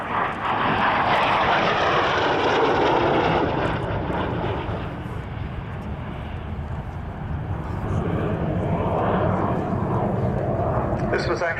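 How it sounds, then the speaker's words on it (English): An F-86A Sabre, an early jet fighter, roars steadily and loudly overhead during a Cosford air display, with the engine sound swelling and easing slightly and a voice commenting over it. "It's the only flying A model Sabre in the world, and the oldest jet aircraft still flying."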